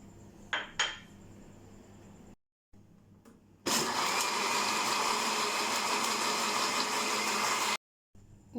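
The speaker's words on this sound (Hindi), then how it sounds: "इसको अच्छी तरह जो है वो हम ब्लेंड कर लेंगे" An electric blender whirs loudly and steadily for about four seconds, blending falsa juice with Rooh Afza or Jam-e-Shirin syrup, after a few sharp kitchen clinks and a brief pause.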